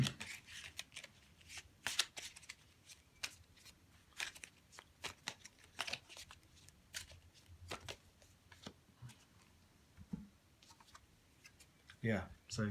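Tarot cards are handled and laid out on a table, producing soft irregular taps, slides and flicks, fairly faint and scattered, with a flurry of shuffling near the end.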